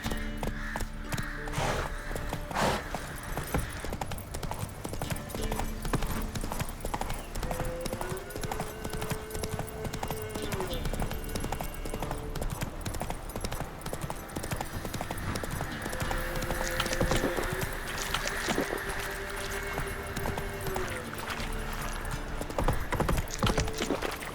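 Horse hooves clip-clop steadily at a run in The Witcher 3, a continuous rhythmic patter under game music and ambience, with a brief whinny possible.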